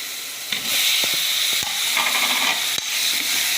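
Onions and tomatoes sizzle steadily in a hot pan for tomato rice, a dense frying hiss running throughout with a few sharp clicks and scrapes of a stirring spoon against the metal.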